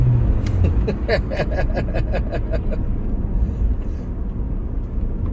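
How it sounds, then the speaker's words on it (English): A 2004 Pontiac Vibe pulls away at full throttle in a low, rumbling engine surge, heard from inside the car, with a rhythmic ticking clatter that rises and then fades. "Watch us step on it here. That's full throttle right there."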